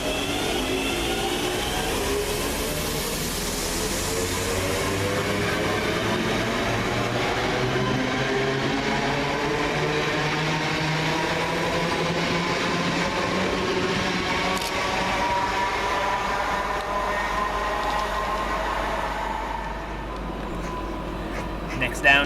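Two coupled West Midlands Railway Class 323 electric units at Bournville station, a steady drawn-out roar of motors and wheels with rising and falling whine, loud and continuous for over twenty seconds before easing off.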